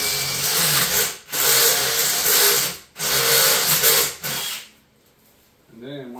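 A power drill bores a hole in metal for home-built radiator mounts during an LS swap on a Suburban, three loud sustained runs with short pauses between them, then a quieter final burst before a voice starts talking.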